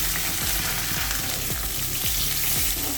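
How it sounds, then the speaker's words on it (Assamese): Onion, chili, ginger and garlic fry in a hot pan for an Assamese-style dish, giving a steady, close, loud sizzle with faint crackles and occasional low stirring knocks throughout. "এতিয়া অলপ পিঁয়াজটো অলপ ভাজিব দিম"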